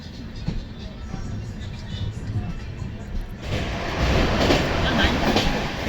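Swarnarekha Express train rolling into Bhojudih Junction, a steady rumble of wheels and carriages that swells louder midway through, with faint voices in the background.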